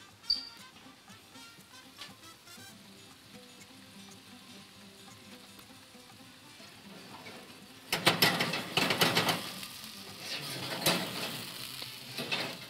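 Crispy chicken frying in a pan, a quiet faint sizzle at first that swells into a loud, close crackling fry with bursts of spattering in the final seconds, no talking.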